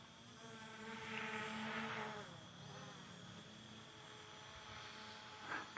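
Ameta S20 Pro GPS beginner drone flying in follow mode a few meters away, a faint, steady propeller whine that rises briefly and then holds on outdoors.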